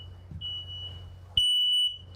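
An interconnected household smoke alarm sounds from another room as part of a fire safety demonstration: a faint, steady high beep at first, then a loud continuous shrill tone for about half a second before it drops back to quiet.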